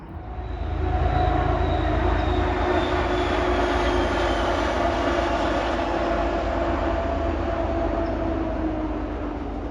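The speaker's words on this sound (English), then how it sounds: "a train will pass overhead with its lights on" A heavy, continuous rumble and roar of a train passing close by overhead on a bridge at night, steady and loud throughout with a low droning hum.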